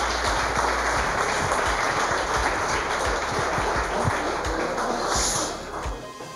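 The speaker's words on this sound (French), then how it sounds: "on les applaudit" Audience at a French business network's award ceremony applauds the winners, a steady, dense roar of clapping over a low hum that holds for about six seconds before easing slightly.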